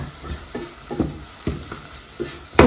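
Chili paste stir-fried with bacon in a pan crackles under a low sizzle, with rhythmic scraping strokes of the spatula about every half second and a louder clatter at the end, close by.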